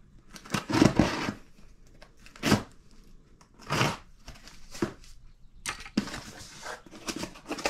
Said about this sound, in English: I haven't opened it yet, so I'll get this cut open.